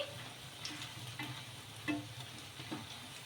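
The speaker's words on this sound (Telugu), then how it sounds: "ఇలా ఇంకా మధ్య మధ్యలో కొంచెం కదుపుకుంటూ గోల్డెన్ కలర్ వచ్చే వరకు రెండు వైపులా కూడా బాగా ఫ్రై చేసేసుకోవాలి" Sabudana sizzles softly in hot oil in a pan while a ladle stirs it now and then, a steady faint frying hiss with light scraping taps.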